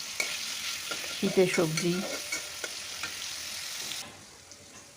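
Onions fry in a pan with a steady sizzle and the scrape of stirring, while someone speaks briefly in Bengali over it. The sizzle drops away abruptly near the end.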